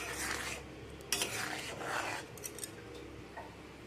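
A spoon stirs and scrapes egg ghugni curry with peas and potato in a pan, giving irregular scraping strokes over a soft sizzle, close and moderately loud.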